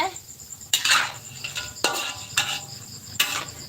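Crunchy pork cracklings tipped into a frying pan give several sharp clattering clinks a second or so apart, close and bright against a quiet background.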